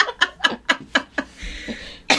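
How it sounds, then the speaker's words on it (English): A run of sharp, close coughs, about seven bursts in quick succession, then a short pause and one more cough. "as I cough on you"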